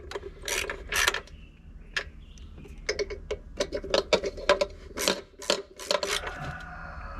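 A hand ratchet snugs bolts on a 2001 Cadillac during a starter replacement, with close, crisp bursts of rapid clicking separated by short pauses, no voices.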